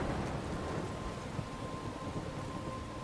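Thunderstorm ambience with rain in the video game Life is Strange, a faint continuous wash of rainfall and low rumbling, no voices.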